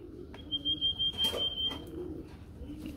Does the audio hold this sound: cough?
no